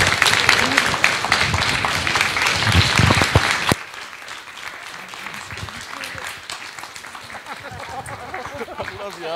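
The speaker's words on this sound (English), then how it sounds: "Please give a round of applause to our two amazing literature." Audience at a literary conversation event breaks into loud, dense applause, sustained for several seconds before easing into softer, scattered clapping.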